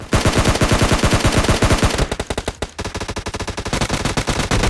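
Loud, rapid bursts of gunfire from an AWM and S12K in PUBG Mobile Lite, a fast run of evenly spaced shots that pauses briefly and then resumes in a second rapid volley, heard close and without speech.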